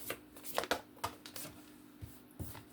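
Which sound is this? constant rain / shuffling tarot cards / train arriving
shuffling tarot cards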